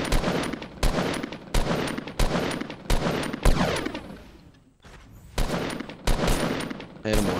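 Gunfire in a Fortnite battle: a string of sharp, loud shots spaced roughly half a second to a second apart, with a short lull and ringing echo in the middle before the shooting resumes.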